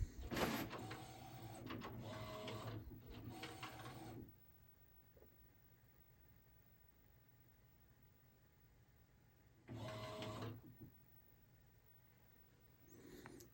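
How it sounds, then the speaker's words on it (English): An HP DesignJet large-format printer works through a print run, with bursts of whirring carriage movement at the start and again later, separated by a quiet low hum; faint and close, with no voices. "It's probably printed out enough for me to cancel the print run to get an idea of what color it's printing out in."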